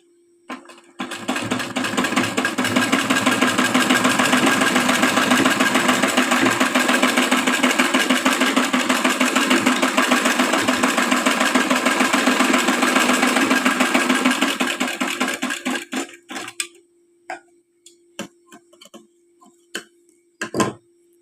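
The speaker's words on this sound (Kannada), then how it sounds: "ಇದನ್ನು ಹಿಂಭಾಗದ ನೆಕ್ ಹೊಲ್ಕೊಳ್ತಾ ಇದ್ದೀನಿ" A sewing machine stitches the back neck of a flared layered coat, running loud and steady for about fifteen seconds. It then stops, followed by a few faint handling taps and clicks.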